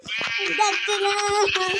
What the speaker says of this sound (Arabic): هاي خروف هارب من الجيران